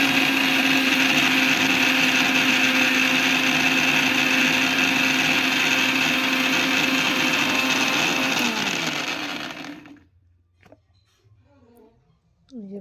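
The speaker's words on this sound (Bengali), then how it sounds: "এটাকে নিয়ে এখন চলে এসেছি মিক্সিতে বাটতে।" A mixer grinder whirs loud and steady as it grinds flat beans with water into a paste, then winds down and stops around ten seconds in, leaving near silence with small clinks.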